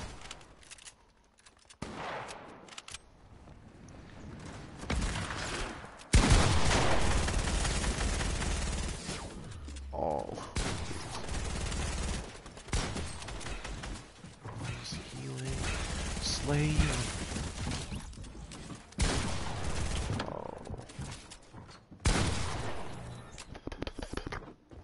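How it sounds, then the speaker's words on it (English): BB gun fire in Fortnite gameplay: bursts of rapid shots and scattered single cracks, loud and close, mixed with game effects and a player talking over the action. "With a fucking BB gun."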